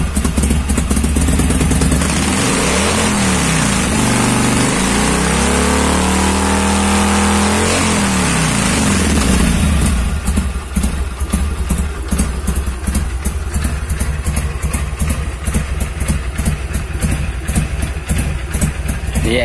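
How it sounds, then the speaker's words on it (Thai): A 2020 Harley-Davidson 883 with a cut stock exhaust idles with a deep, loud lumpy rumble, is blipped and revved up and down, then settles back into a fast, choppy idle pulse, heard up close. "ลองฟังเสียงเบิ้ลดู"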